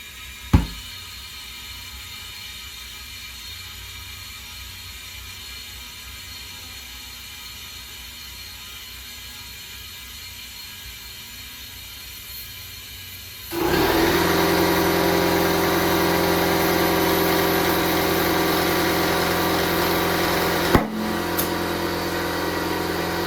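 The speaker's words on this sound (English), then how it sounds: "I'm gonna fill the tire with air." A tire on a 2010 Ford Fusion is inflated with air: a low mechanical hum runs alone at first, then a loud, steady rushing drone starts midway and continues to the end.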